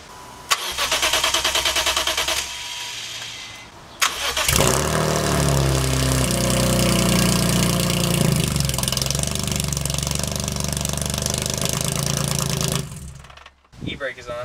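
A BMW M3 GTR with a resonator exhaust cranks with a rhythmic starter chatter, then catches and settles into a loud, throaty idle. After a brief revving swell it cuts off near the end.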